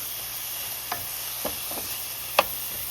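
Onions and garlic frying in a pan over lowered heat give a steady, close sizzle, with a few sharp scraping clicks from stirring.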